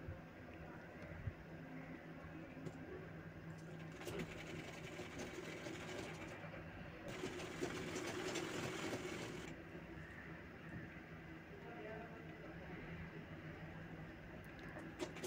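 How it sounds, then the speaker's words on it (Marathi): A sewing machine runs steadily for the whole stretch, stitching the side seams of a baby boy's kurta. The motor's hum thickens briefly near the middle, and no voice speaks over it. "दोन्ही साईड अशा शिवून घ्यायच्या आहेत."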